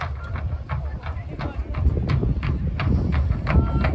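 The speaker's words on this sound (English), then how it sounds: "And here are Waller's own horse." Cavalry horses move at an English Civil War reenactment of the Siege of Gloucester, their hooves giving a steady, fairly close clip-clop trot under continuous talk and crowd noise.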